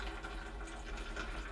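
Water runs steadily from a water filter dispenser powered through a Renogy 1000 watt inverter, a continuous soft gushing and trickling flow that stays even throughout.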